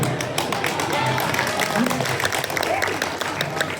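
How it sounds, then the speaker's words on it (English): Audience applause and crowd noise fill a convention Q&A panel room with two guests, a steady dense patter of clapping mixed with voices and laughter throughout. "Do not applaud him for causing a fight"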